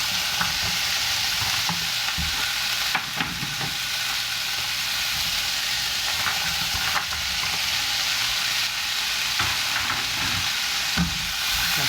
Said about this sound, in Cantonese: 然後呢，就將啲蝦回鑊啦，